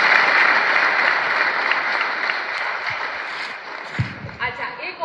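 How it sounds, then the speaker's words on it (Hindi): Audience applause at a talk on exam success, a dense steady clapping that fades toward the end, with a few louder claps and a voice speaking over it. "इसके लिए ताली बजाओ भाई।"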